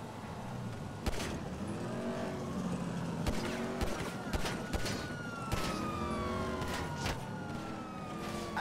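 Police car sirens wail in Grand Theft Auto V, a steady rising and falling tone held under dense game action with sharp gunfire-like bangs cutting through every second or two.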